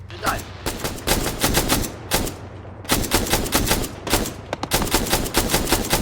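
Bursts of rapid automatic gunfire from an enemy in ARMA 3 crack out in dense, loud volleys, broken by short pauses, with a voice speaking faintly underneath.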